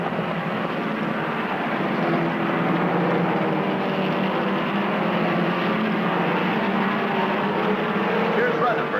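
Corvette race cars lapping a track, hammering down the straights and running sideways through the turns, make a steady, continuous engine roar that holds at an even level throughout.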